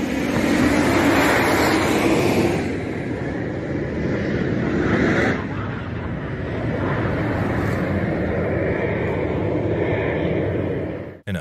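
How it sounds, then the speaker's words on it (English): An Italian Air Force MB-339 display jet roars overhead in a steady, loud, broadband rush that holds throughout with a slight swell midway, with no talk. "an Italian Air Force display jet met with disaster after colliding with birds"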